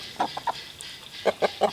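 Chickens clucking, one of them part Barred Rock, in a few short quiet clucks close by, with a gap between two small bursts and no talking.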